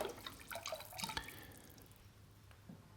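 Thick, lumpy pottery glaze is poured in and out of a cup, giving a short burst of drips and liquid splashes that fade to faint trickles.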